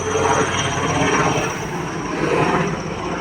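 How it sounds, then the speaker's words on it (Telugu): Steady, loud helicopter engine roar with a broad rushing hum as it passes overhead near Sagar Durga temple in Visakhapatnam, holding constant throughout with no talking. "పైన చూడండి, హెలికాప్టర్ వెళ్తుంది, చూశారు కదా"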